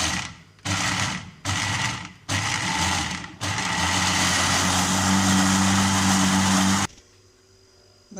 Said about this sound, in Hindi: अब हम इसको ग्राइंड कर लेंगे।